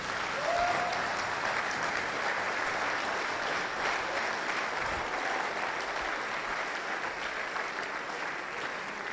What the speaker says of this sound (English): That applause was not it at all.